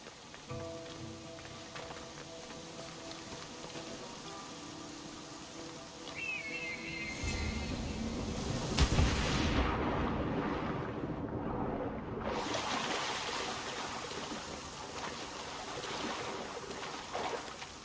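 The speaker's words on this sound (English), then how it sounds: "This is the waterfall." Rushing waterfall in Assassin's Creed Odyssey, a steady broadband roar that swells louder midway as the view moves closer, with a brief whistling tone before the surge and no talk over it.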